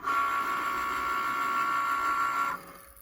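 A Cricut cutting machine works through faux vinyl with a steady, loud motorized whine and tonal hum, running continuously for a couple of seconds before stopping abruptly into quiet.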